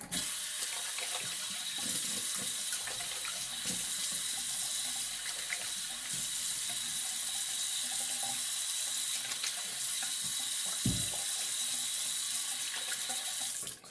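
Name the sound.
water running from a tap, rinsing a brush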